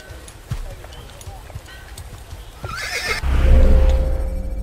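Horse neighing in the video game Assassin's Creed, a loud whinny around the three-second mark amid hoofbeats and game noise, followed by a swell of rumbling sound.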